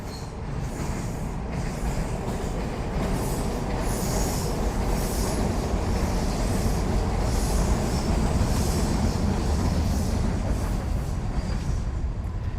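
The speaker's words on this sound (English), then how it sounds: "the elevated train's about to pass by" An elevated train rolls past a rooftop with a continuous loud rumble and wheel squeal that stays steady throughout, with no speech over it.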